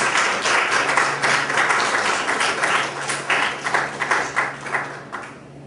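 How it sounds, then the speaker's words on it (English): An audience at an academic lecture on rhetoric in Brazil welcomes the speakers with applause, a full, close wash of clapping that runs steadily, then breaks into looser, separate claps before dying away. "please help me by welcoming our speakers with a nice round of applause"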